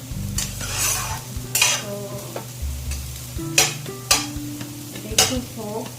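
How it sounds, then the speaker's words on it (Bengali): An egg fries on a hot tawa griddle, a steady sizzle broken by repeated loud scrapes and stirs of a metal spatula against the pan, with a brief word spoken near the start. "अंडा तवा फ्राई"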